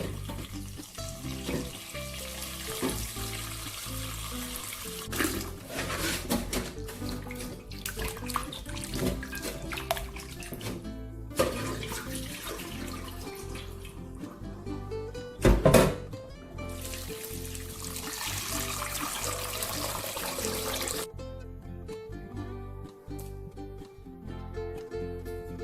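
Running tap water rinses parboiled pork ribs for a rib and choy sum soup, a steady splashing flow with clinks and knocks of handling in a sink, close and fairly loud throughout with no talking.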